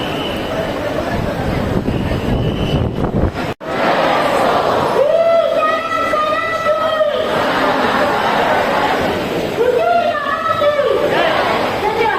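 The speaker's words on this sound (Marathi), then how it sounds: "पाहू शकता किती गर्दी आहे" Dense crowd noise from devotees packed into the queue for Lalbaugcha Raja darshan in 2025, a steady loud hubbub of many voices with overlapping chatter and occasional raised calls, continuous throughout with one brief dropout.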